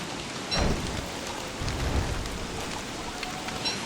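Steady rain in the video game Don't Starve Together, a soft continuous hiss with low rumbling swells of thunder, fairly quiet and with no talking.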